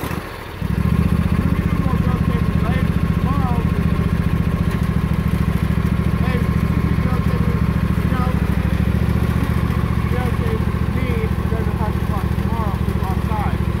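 A Husqvarna GTH 52XLS riding lawn tractor engine starts and runs steadily close by, a loud continuous low drone with a slight change in pitch midway as it drives, while people talk over it.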